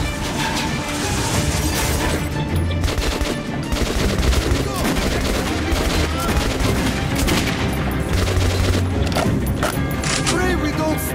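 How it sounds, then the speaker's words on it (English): Dense, continuous gunfire in the video game Metro, rapid automatic bursts and overlapping shots with crashes, loud and relentless throughout. "We got to shoot quickly."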